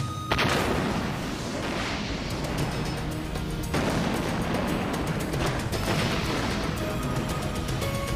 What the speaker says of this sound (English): That explosion should have taken care of the Phodex.